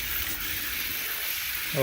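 Water runs into an old mortar tray from a line with a little air in it, making a steady close hiss of flow that swells slightly toward the end.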